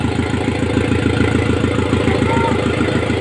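A freshly rebuilt engine runs at a steady idle close by, its low, even rhythmic chugging continuing without a break.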